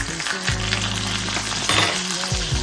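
A New York strip steak sizzles and fries in a pan, a dense, close crackle running throughout with a few faint clinks of the pan and no voices.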